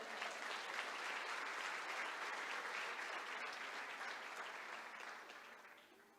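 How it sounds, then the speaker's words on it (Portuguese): A church congregation breaks into sustained applause, a dense, even roar of clapping that holds steady and then gradually fades away toward the end. "Você pode glorificar e aplaudir o Senhor?"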